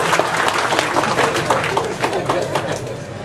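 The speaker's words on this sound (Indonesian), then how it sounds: "Tepuk tangan lagi." Audience applause at a Mocopat Syafaat gathering in August 2011, a loud, continuous crowd of clapping hands close up, with some chatter mixed in.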